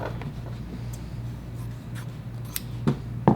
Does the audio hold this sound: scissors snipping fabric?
yes